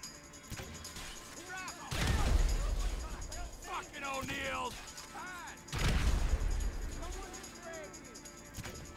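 Two heavy booming blasts from a rocket launcher in GTA V, each a deep, rumbling burst a few seconds apart. Someone talks excitedly between and over them.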